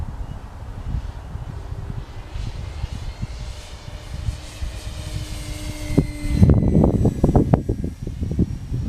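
E-Flite Timber RC airplane flying on a windy day, its electric motor a steady buzzing drone under rushing wind noise throughout, with louder wind gusts buffeting near the end.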